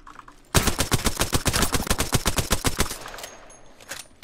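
An Alternator SMG fires in Apex Legends as a single fast, rapid burst of about twenty evenly spaced shots, loud and close, followed by faint clatter and game effects.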